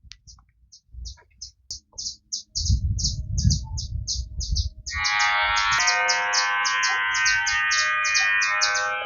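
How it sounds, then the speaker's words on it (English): Birds chirp outdoors in Cayo, Belize, in a quick, regular series of sharp chirps. Low, knocking handling sounds come partway through, then a dense, steady buzz of insects or birds rises underneath. "I love the birds how they're chirping"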